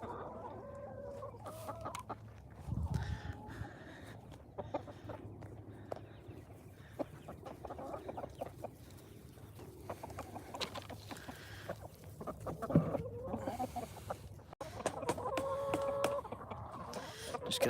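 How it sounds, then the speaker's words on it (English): Backyard chickens on a homestead clucking and murmuring close by, with scattered louder squawks and a brief crow-like call, over a faint background hum. "overall just kind of hang out with the chickens for a few minutes"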